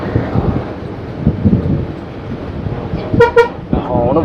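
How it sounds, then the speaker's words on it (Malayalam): A large tourist bus horn gives two short, loud toots close by, ringing out over someone talking inside the vehicle amid road rumble. "ഹോൺ ഇവിടെയാണല്ലേ. ഞാൻ ഹോണ് തപ്പായിരുന്നു."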